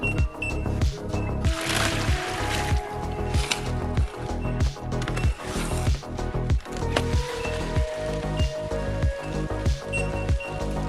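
Concrete is mixed by hand in a wheelbarrow, with a rhythmic series of wet scraping, sloshing strokes roughly every half second, loud and close, with no talking.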